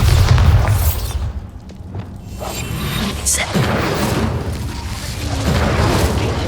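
A Bombarda spell detonating in the Hogwarts Legacy video game: a loud, deep boom opens, followed by rumbling debris and crackling aftermath that stays dense and near for several seconds.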